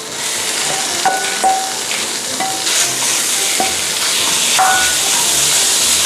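Loud, continuous sizzling of minced pork stir-frying with curry paste in a hot Teflon pan, with scraping and clinks of a utensil stirring the food.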